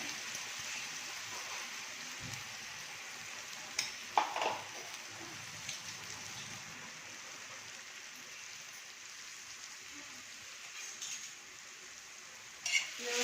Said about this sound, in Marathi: आपण याच्यात टाकून घेणार आहोत सव्यामध्ये थोडंसं फ्राय करून घ्यायचं आपल्याला वाटण